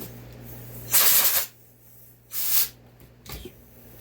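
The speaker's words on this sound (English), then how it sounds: "Just spray water on it." Two hissing bursts of water sprayed onto an MS660 chainsaw cylinder during hand cutting, each about half a second, then a brief softer spritz, over a faint steady hum.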